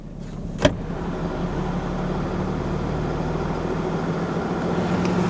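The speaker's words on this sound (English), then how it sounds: "And as you guys see, truck starts right up." A 2026 RAM HD diesel truck engine idles steadily just after starting, a low even rumble held at moderate level throughout, with a single sharp click near the start.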